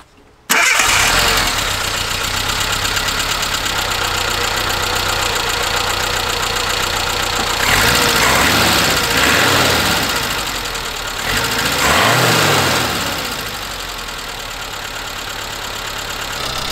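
A Suzuki Samurai's carbureted engine, treated with Seafoam, cranks and catches, then settles into a steady, slightly rough idle with a couple of throttle blips, close and loud with no talking.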